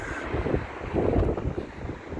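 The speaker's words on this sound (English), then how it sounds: "But yeah, that wind's up again." Gusty wind on the Blackpool seafront buffets the microphone in low, rumbling surges, loud and close, rising and falling over a couple of seconds with no voices.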